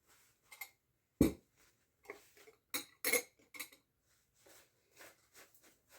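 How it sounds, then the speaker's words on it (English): Sauerkraut jars are cleaned and handled, giving sparse, sharp glass clinks and knocks separated by near-silence. The irregular taps are close and fairly quiet, with a couple of louder clunks. "Just going to clean my jars a little bit."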